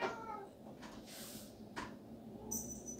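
A pet cat meows a few times, close and moderately loud, amid low room noise with no talking.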